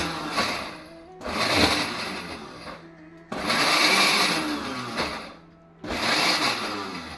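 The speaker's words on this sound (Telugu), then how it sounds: "రెండు మూడు సార్లు విప్పర్తోటి తిప్పిన తర్వాత మళ్ళీ అంత కళ్ళుప్పు వేసి మిక్సీ బిగించి మెత్తని పేస్ట్ చేశానండి" A kitchen mixer grinder whirs loudly in short pulses while grinding pickle paste with rock salt, three or four bursts separated by brief pauses, with a voice faintly underneath.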